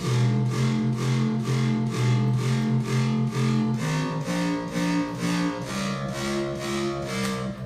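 Layered, distorted bass house synth basses with a sub bass pulse in a steady rhythmic pattern, loud and dense, shifting pitch partway through with a deep low end underneath.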